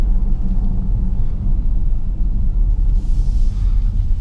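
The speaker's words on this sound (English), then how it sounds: "Ford Explorer in general, now this being the Sport, is an extremely comfortable vehicle to drive" A 2017 Ford Explorer Sport twin-turbo 365 hp SUV cruising, heard as a steady low engine and road rumble from inside the cabin with no speech.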